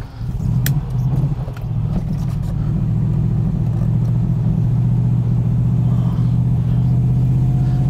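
A Jensen Interceptor's engine idles steadily with a deep, loud rumble, after a few brief throttle blips early on, then settles into an even, continuous run close by.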